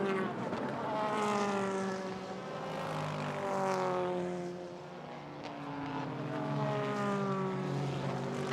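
Super GT race cars, including the number 55 Honda NSX making a pass, roar past at Suzuka in a continuous high-revving engine whine that rises and falls as the cars shift through gears.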